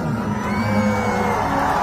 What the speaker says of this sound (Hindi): मैं चाहूंगा कि पागल भैया के लिए जोरदार ताली और हल्ला करें।